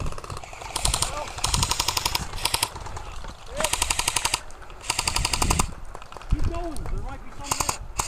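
Airsoft guns fire in rapid, repeated bursts during an outdoor airsoft game, loud and close, with pauses between volleys while players shout over the shooting.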